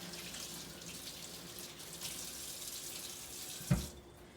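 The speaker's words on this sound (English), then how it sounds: "Next, I'm going to wash my hands with soap." Tap water runs steadily into a sink as hands are washed with soap, a soft continuous close splash that ends with a brief clunk as the flow stops.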